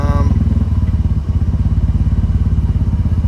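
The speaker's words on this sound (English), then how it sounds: "So there's that's the rod knock." A 1996 BMW Z3 engine idles with a rod knock, a loud, close, evenly rhythmic clatter of thuds repeating rapidly over the engine's rumble.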